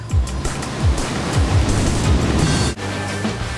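A huge mass of water, close to 25,000 litres a second, crashes down onto a person in a rescue drill, a loud, continuous rushing roar with surging pulses and a brief dip near the end.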